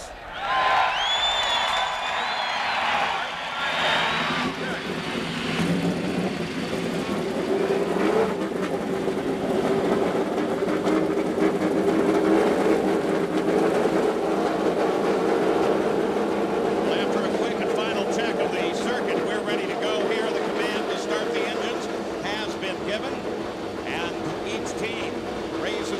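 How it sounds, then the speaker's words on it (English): A field of IndyCar race cars fire up their engines at Texas Motor Speedway before the 1997 True Value 500, a loud sustained roar of many engines. A crowd is heard beneath it and some talk at the start. "Gentlemen, start your engines."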